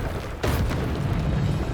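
A Bombarda spell explosion in Hogwarts Legacy on Switch: a sudden loud booming blast breaks in partway through, followed by a sustained low rumble that continues to the end.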